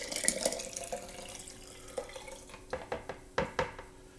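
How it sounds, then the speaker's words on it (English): Apple cider vinegar poured into a cooking pot in a home kitchen, a soft, faint liquid splash with light clinks of utensils and cookware scattered through the quiet. "Get your apple cider vinegar"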